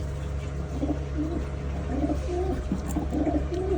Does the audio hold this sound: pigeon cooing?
yes